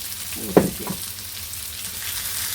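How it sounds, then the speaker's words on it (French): Chicken escalopes sizzle steadily in a frying pan, a constant close hiss with a brief louder spurt near the start as a piece goes back in. "De remettre nos escalopes une par une dans la poêle"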